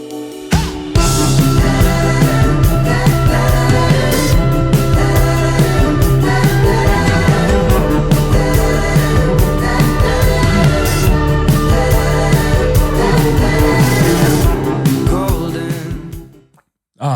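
Dreamy pop-rock track with a 60s rock feel, playing loud and steady with full band instrumentation for about sixteen seconds before cutting off abruptly near the end.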